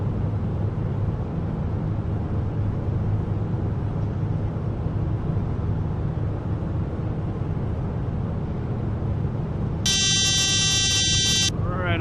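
A cockpit warning buzzer sounds in Microsoft Flight Simulator X during a Cessna 404 approach in British Columbia, a loud harmonic tone lasting about two seconds near the end over steady engine drone.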